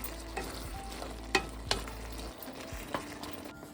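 Tomatoes with ajwain cook in a pan, a soft steady sizzle broken by a few sharp spoon scrapes and taps as the mixture is stirred.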